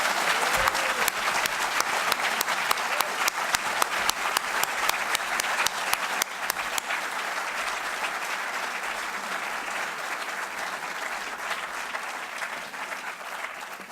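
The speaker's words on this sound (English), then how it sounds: "I think we owe them all a round of applause." Audience at a gubernatorial debate gives the candidates a sustained round of applause, dense even clapping from a sizable crowd, brisk at first and gradually settling into a softer, continuous patter.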